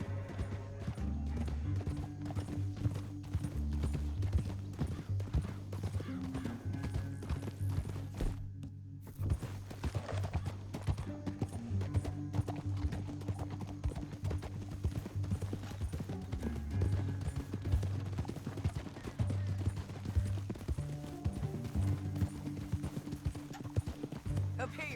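Rhythmic clip-clop of horse hooves runs steadily throughout in the video game Red Dead Redemption 2, with a horse whinnying briefly and voices speaking over a constant low musical bed.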